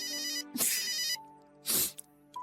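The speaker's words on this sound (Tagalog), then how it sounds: "Sino ba tong tumatawag na to kanina pa?" A telephone rings with an incoming call, giving two loud electronic ringtone bursts of a bright warbling trill with a short pause between them, close and clear.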